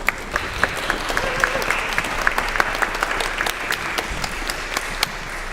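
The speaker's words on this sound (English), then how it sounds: "Could we give the band and orchestra, Mr. Redmond and Mrs. Lyford, another round of applause?" Steady applause from a crowd at a high school band and orchestra performance fills the whole stretch, with sharp individual claps popping above the even patter.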